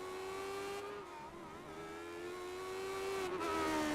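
A race car circles a track in a Race of Champions event, its engine a steady loud whine that climbs and falls in pitch as it drives continuously without pause.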